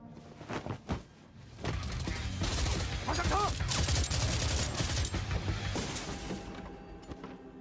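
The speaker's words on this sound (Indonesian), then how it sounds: "Para penjahat bertopeng itu terus menghujani polisi dengan tembakan." Gunfire from a shootout in a gangster film, masked criminals and police trading shots: dense, continuous bursts of loud shots layered with action-scene noise and debris, with a couple of isolated cracks before sustained firing.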